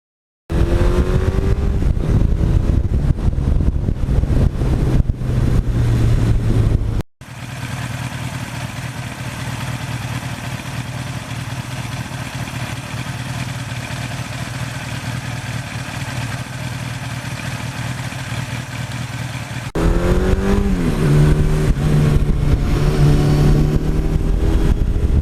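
A 1982 Suzuki GS1100E motorcycle engine runs steadily for the whole stretch, its loud, close idle briefly cut and then settling into a smoother, quieter tone before a rougher, louder run returns near the end.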